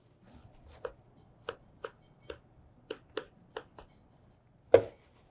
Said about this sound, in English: slice right across from it and you should hear like a tick, tick, tick, tick as your knife is hitting the bone